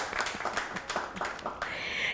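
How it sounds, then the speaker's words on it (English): An audience applauds at a studio talk show honoring a woman engineer, a short burst of scattered clapping at moderate distance lasting about two seconds. "Can we give a round of applause for our Trailblazer of the day?"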